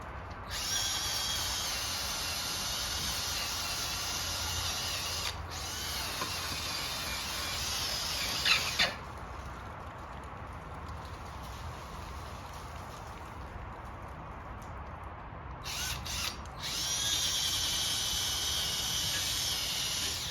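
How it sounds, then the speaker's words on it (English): A power drill whirs steadily for most of the stretch, with brief stops and restarts, a high-pitched hiss-like motor whine throughout, while working on greasy, stuck parts of a 2JZ-engined MK3 Supra. "what I'm about to do is use a drill"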